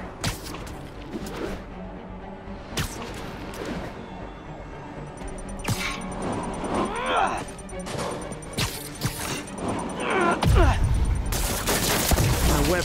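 A bomb blast in Marvel's Spider-Man, muffled by webbing, lands as a burst of crashing, banging impacts near the end, after a stretch of background clatter and game sounds.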